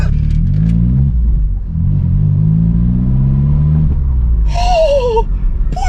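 Vauxhall Corsa with a straight pipe exhaust, the engine revving loud and close with rising and falling rumble, then a sharp squeal near the end; no one speaks over it.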